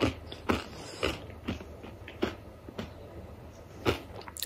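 Crunchy pizza crust being bitten and chewed close up, a series of sharp crisp crunches at irregular intervals, with no talking.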